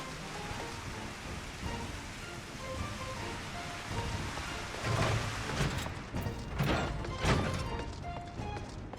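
Rain in the video game Final Fantasy XIV, a steady hiss of falling rain with a low rumble swelling midway, continuous and fairly loud with no talk.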